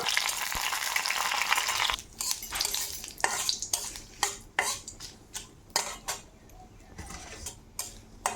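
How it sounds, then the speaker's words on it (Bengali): Curry leaves fry in hot oil in a pan: a loud burst of sizzling fades after a couple of seconds into a series of sharp scrapes and clinks as a utensil stirs against the metal. "কারি পাতাটা ভেজে নিব।"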